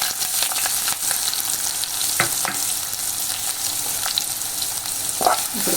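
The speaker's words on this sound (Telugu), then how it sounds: "ఇప్పుడు కోసి పెట్టిన ఉల్లిగడ్డ వేస్తున్నాను." Chopped onions dropped into hot oil with green chillies for a drumstick curry, loud close sizzling and crackling with occasional stirring scrapes and clicks, no voices.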